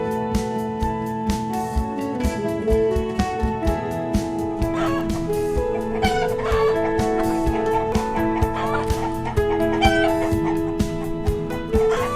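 Chickens cluck and cackle over a steady bed of music in a children's cartoon about moving hens to a new safe coop, short clucks recurring throughout at moderate loudness.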